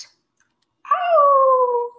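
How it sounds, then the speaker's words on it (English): A dog gives a single drawn-out howl that slides slowly downward, loud and close, after a moment of near silence, with no other sounds. "The howl is closer now."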